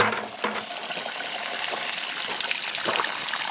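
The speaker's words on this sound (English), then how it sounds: "that surface inlet is just sucking all that water straight out" Water rushing and trickling into the surface inlet of a French drain set in a clay yard, a steady close gurgling flow that runs through the whole stretch with a few louder surges.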